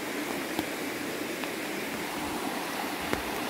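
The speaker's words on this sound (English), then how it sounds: "Here's the river." A mountain river near an old off-grid homestead rushes steadily, a broad continuous wash of flowing water with a few faint knocks, moderately close and without voices.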